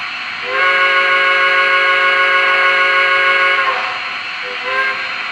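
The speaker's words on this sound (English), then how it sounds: "you get a little bit of a different sounding whistle depending on how long you hold that whistle for" A piercing model train whistle holds one long sustained blast, then fades and gives a short second toot, loud and close with a breathy hiss. From an MTH PRR E6 Atlantic model locomotive.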